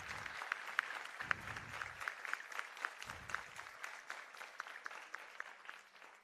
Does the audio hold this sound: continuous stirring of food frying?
no